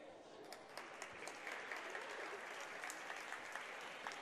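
A high school basketball crowd claps steadily for an injured player leaving the floor, the applause heard at a distance as a soft, even patter.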